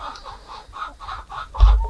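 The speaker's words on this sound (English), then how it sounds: "Let's take a look at these chickens here." Chickens clucking in a steady run of short, rhythmic bursts that sit close by and stay moderately loud, ending with a heavier thump-like burst near the end.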